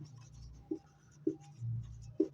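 Pen strokes scratch on paper or a board in a quiet room, with a few faint taps and scrapes spread over a couple of seconds.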